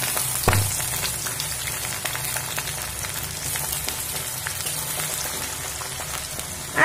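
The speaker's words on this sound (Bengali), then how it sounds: "দিয়ে পেঁয়াজটা একটু ভাজা করে নেব" Two large minced onions frying with turmeric in a pan after a dried red chilli and cumin tempering, cooking ghugni at home, crackle and sizzle steadily, with an isolated clatter near the start and no speech.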